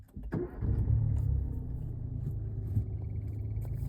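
A car engine turns over and settles into a steady low idle, close by, with a brief rise in revs midway and no talking.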